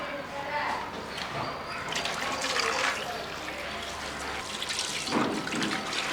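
Water runs steadily from a well-side tap as fresh fish is rinsed outdoors, a continuous splashing wash with handling noises and people talking over it.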